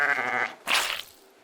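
A sheep bleating once, a loud, close, wavering bleat followed by a breathy rustle, no talk.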